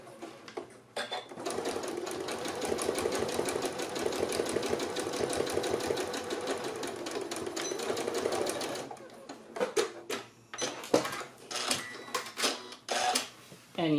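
A sewing machine runs steadily for several seconds while tacking down the pleats of a three-layer fabric mask, then stops and starts in short clattering bursts with clicks, close and alone.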